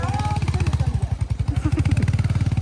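Royal Enfield Hunter 350 single-cylinder motorcycle engine running while riding, a steady rapid thumping pulse that is close and loud throughout, with a voice talking over it.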